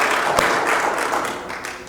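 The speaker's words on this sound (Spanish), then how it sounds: "denle el aplauso a Jesús" A church congregation applauds for Jesus during a Spanish-language sermon, a dense, steady wash of many hands clapping together, moderately loud and filling the room, with no speech over it.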